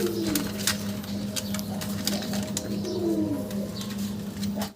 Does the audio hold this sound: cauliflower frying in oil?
no